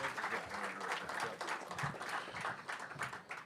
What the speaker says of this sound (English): At this time, you guys can clap.